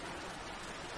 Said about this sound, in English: Oh, you can hear the rain coming down today.